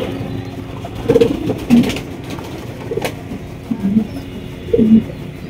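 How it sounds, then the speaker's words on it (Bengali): A pair of black Mondi pigeons coo softly nearby, with several short throaty calls spaced across a quiet background. "একজোড়া মন্ডি কবুতর"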